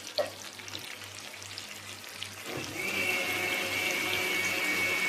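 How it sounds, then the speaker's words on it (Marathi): Fish frying in a pan, a steady close sizzle that grows denser and louder partway through, with a low rhythmic hum pulsing underneath. "फ्राय झालेली आहे जवळजवळ."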